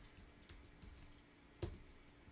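Faint, quick clicks of keys being tapped on a computer keyboard while typing a command in Rhino software, a short series of soft keystrokes ending with one louder press.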